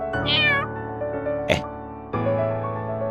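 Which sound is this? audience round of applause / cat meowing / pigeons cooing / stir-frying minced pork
cat meowing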